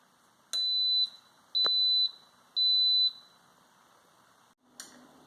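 Instant Pot starting a cook of ribs: three loud, even electronic beeps of about half a second each, spaced a second apart, then a short softer tone.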